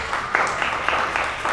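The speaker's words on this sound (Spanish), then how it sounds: "y un aplauso para vos." Audience applause after a talk on marketing and journalism, a steady crowd clapping with rhythmic peaks throughout the short span, moderately loud and close, with no voices over it.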